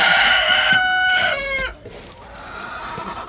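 Broody hens clucking in a chicken coop: loud, close, drawn-out harmonic calls for about a second and a half, then breaking off into quieter background noise.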